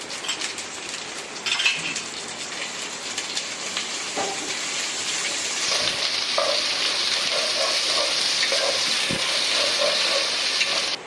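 Ginger and garlic paste sizzles and hisses steadily in a hot frying pan while cooking khichuri, with occasional stirring scrapes and utensil clinks, close and continuous with no talk.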